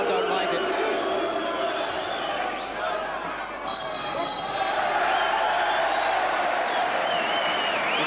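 Boxing arena crowd reacting disapprovingly to a referee's call: a dense, continuous roar of many voices with booing swells, loud and enveloping, while a commentator talks over the noise.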